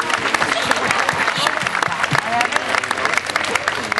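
Audience at a book festival talk at USC in Los Angeles applauds a speaker, a dense, sustained round of clapping filling the room with a voice speaking over it.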